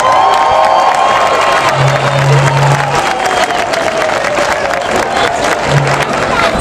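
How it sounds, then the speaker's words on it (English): A large outdoor crowd at an animal rights march in London claps, cheers and whoops in a loud, continuous burst of applause with scattered shouts rising above it. "give a warm welcome, a round of applause, and a whoop whoop for Evanna Lynch"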